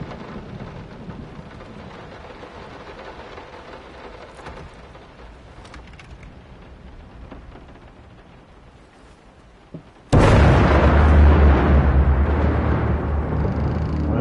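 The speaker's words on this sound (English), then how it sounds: "Why you gotta hit me with so loud lightning?" Steady rain and storm ambience in the horror video game Layers of Fear, then a sudden loud crash of thunder that cuts in and keeps roaring at full strength to the end.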